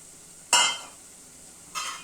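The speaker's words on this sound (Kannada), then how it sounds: "ಹಾಕ್ಬಿಟ್ಟು ಇದನ್ನು ಸಹ ಚೆನ್ನಾಗಿ ಫ್ರೈ ಮಾಡ್ತೀನಿ." Onion and carrot stir-fried in a pan for veg hakka noodles: two short bursts of sizzling and scraping, a loud one at first that fades, then a softer second burst, with no talking.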